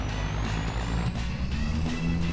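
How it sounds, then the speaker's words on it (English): A pickup truck engine roars loudly like a diesel, a heavy close rumble with a steady low drone and a thin whine rising above it. "Oh my gosh, this thing sounds like a diesel times 10."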